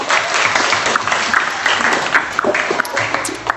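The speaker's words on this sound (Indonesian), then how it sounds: "Dan tepuk tangan dulu untuk sekarang." Students applauding in a classroom, a steady burst of close clapping with a few sharper individual claps standing out, some voices mixed in.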